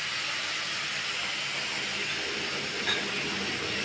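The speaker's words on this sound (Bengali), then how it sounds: "আমি এবার এটাকে ভাজা ভাজা করব" Bottle gourd peel frying in a pan over a medium gas flame gives a dense, even, continuous sizzle, close and moderately loud, with one brief crackle near the end and no voices.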